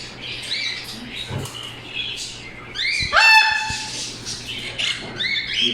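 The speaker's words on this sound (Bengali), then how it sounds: "আর এখানে দেখতে পাচ্ছেন কোকাটেল" Cockatiels squawk and chirp in a busy wholesale bird shop. Sharp, bright calls come in scattered bursts, near and fairly loud, with a louder cluster in the middle over a low background hum.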